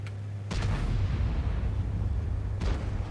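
Two sharp gunshot bursts from a shooting video game, one near the start and one near the end, loud over a steady low in-game hum with no talking.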